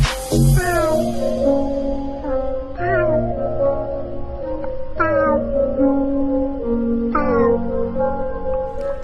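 Voices imitating crying, meowing cats for Instagram reels, delivering four drawn-out rising-and-falling wails at a steady pace over sustained musical tones.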